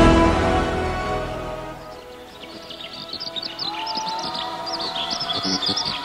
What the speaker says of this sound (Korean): 저 푸른 창공에서는 새들이 아름다운 목소리로 하나님을 찬양합니다